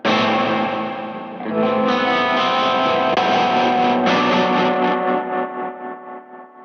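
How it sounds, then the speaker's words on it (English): An electric guitar chord rings through a Valco Five-O overdrive/tremolo/reverb pedal, its distorted reverb tail chopped into pulsing throbs by the tremolo and fading out alone at the end. "So the reverb is being cut off by the tremolo."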